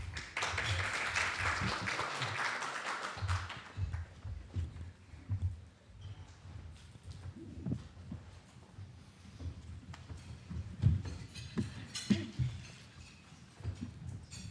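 Audience applause at a national summit on autoimmunity welcoming two speakers to the stage, a broad wash of clapping loudest at the start and thinning over the following seconds, with scattered murmurs and handling noise underneath.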